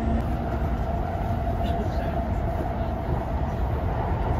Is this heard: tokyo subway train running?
yes